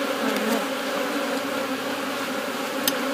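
Honeybees in an opened hive full of brood drone in a steady, close, continuous hum, with a couple of brief louder buzzes as single bees pass near.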